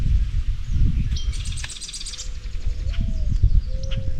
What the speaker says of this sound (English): red-winged blackbirds. I don't know who's making that noise, but this is beautiful.